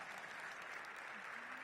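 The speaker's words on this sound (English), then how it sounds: "Please give them a big round of applause." Faint, steady applause from an audience at a mayoral announcement event, a soft continuous wash of clapping heard from a distance.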